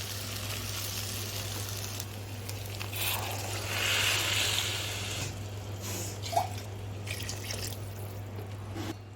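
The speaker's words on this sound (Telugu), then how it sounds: "ఇప్పుడు వాటర్ పోసేద్దాం" Water pours into a pan with a soft gushing rush over a low steady hum, then tapers off with a small clink.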